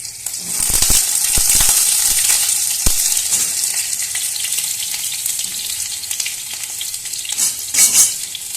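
Pointed gourd pieces dropped into a small amount of hot mustard oil, giving a steady loud sizzle and crackle with a few sharp spatters and stirring knocks, and no talking.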